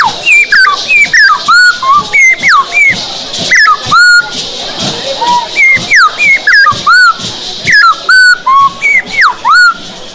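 A person whistles a lively run of rising and falling birdlike phrases, imitating the song of a sabiá thrush, loud and close with short pauses between notes.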